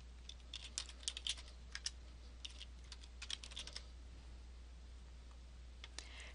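Quiet bursts of typing on a computer keyboard during data entry in cataloging software, soft close key clicks in two irregular clusters with a pause between and a steady low hum underneath.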